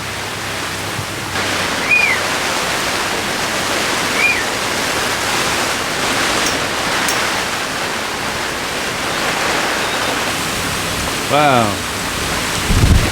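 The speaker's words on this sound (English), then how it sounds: "Horizontal rain." Heavy, steady horizontal wind-driven rain lashes down in a dense roar with gusting wind, a few brief exclamations and a short whistling tone near the end.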